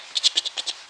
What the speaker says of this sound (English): You'll hear kind of a scratching sound like